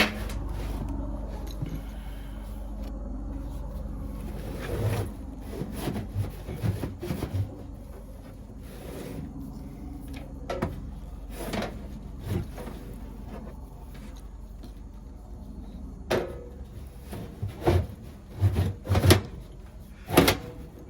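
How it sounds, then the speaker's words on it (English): A furnace blower assembly is slid back into a Payne unit, with metal scraping, sliding rubs and bumps in irregular bursts close by, growing louder and more forceful toward the end. "let's put this blower back in."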